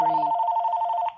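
An office telephone rings with a steady, two-tone electronic bell, close and loud, before cutting off just before the end.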